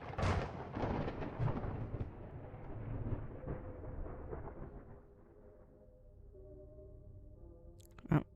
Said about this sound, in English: I guess we assume he died at the thunderclap